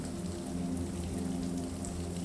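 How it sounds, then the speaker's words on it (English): Rain pelts the fabric of outdoor chairs on a houseboat deck on a lake, a steady, close patter with a low dull undertone and no voices. "listen as the rain pelts on the fabric of your outdoor chairs"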